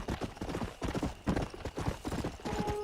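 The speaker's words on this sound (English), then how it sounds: "no more distracted horse riding" Horse hooves clip-clop in a steady galloping rhythm in the Red Dead Redemption video game, close and fairly loud throughout.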